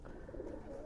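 A homing pigeon gives a brief, soft, low cooing sound, faint and on its own with no one talking.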